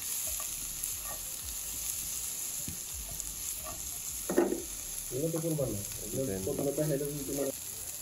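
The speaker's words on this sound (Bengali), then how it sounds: "একটু ভালো মতো ভেজে নেব মাংসের সাথে" Meat frying in a pan sizzles softly and steadily, with occasional stirring scrapes, while someone speaks over it in the latter half.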